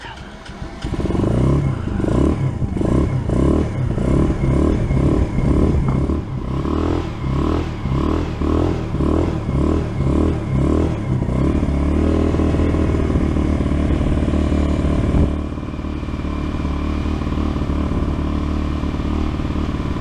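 A nitro RPS Racer 140 RC car with a Nibbi PE24 engine runs on a top-speed pass. Its high, rattling engine pulses and revs loud and close, then settles into a steadier drone.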